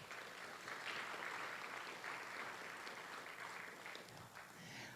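An audience at a public history talk applauds steadily, a soft, fairly distant wash of clapping that runs throughout with no talking over it.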